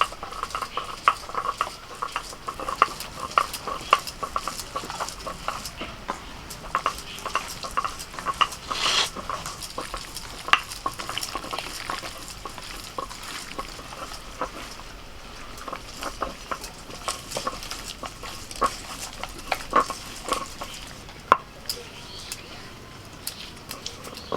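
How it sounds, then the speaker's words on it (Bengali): Raw meat worked by hand with spices, salt and two spoons of mustard oil in a bowl, making a long run of close, wet squelching and patting with scattered clinks of a utensil against the dish. "মশলার সাথে মাংসটাকে খুব ভালো করে মাখিয়ে নিচ্ছি"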